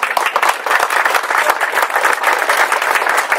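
Loud, close applause from an audience at a library reopening ceremony, with dense overlapping claps that hold steady for a few seconds.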